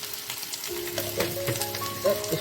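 Aloo frying in a pan as turmeric, chili powder and salt are stirred in, a steady close sizzle with a few soft scraping stirs, no voices.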